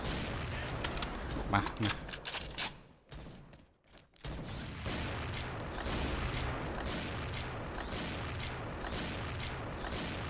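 Sniper rifle shots ring out in a shooter video game, with several sharp cracks early, a brief lull, then dense sustained gunfire and noise. A voice briefly exclaims over the action.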